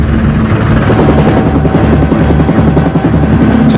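A CH-53E heavy-lift military helicopter thunders close and loud, its rotor blades beating in a dense continuous chop over a deep engine roar, with no voices.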